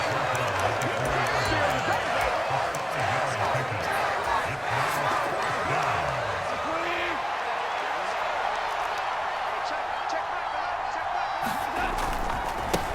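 A stadium crowd in the video game Madden NFL 23 builds before a big third down in a Detroit Lions at Dallas Cowboys game, a steady roar running throughout beneath a commentator talking.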